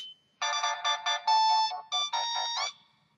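A new phone plays its startup tone when switched on, a short bright electronic melody of quick rising chimes lasting about two seconds, close and clear, then fading out.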